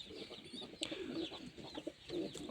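Pigeons in a loft cooing softly, with several low rolling coos repeating through the moment and a brief flutter or scuffle near the start, fairly close in a quiet room.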